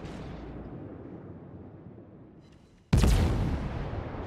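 Guns of the Minotaur cruiser firing in World of Warships: a booming roar slowly fades, then a sudden sharp, loud salvo cracks in close, with its rumble lingering afterward and no talk.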